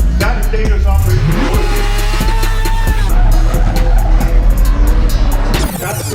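A drift car slides and skids with loud, sustained tire squeal over a roaring, revving engine, close by and continuous throughout, with some background voices.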